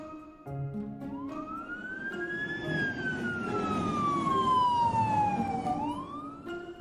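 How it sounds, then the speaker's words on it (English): A fire engine siren sweeps up and down as the truck drives past on a street, rising loud then fading with a pitch drop, over steady traffic rumble. "He stops as a fire engine drives by"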